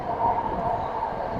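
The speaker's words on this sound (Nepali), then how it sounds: "कपाल पनि उडायो साथीहरू आयो ट्रेन आयो" A train pulls into a station in Japan with a steady, loud rumble and hum of rolling wheels and moving carriages, as though heard from the platform close by.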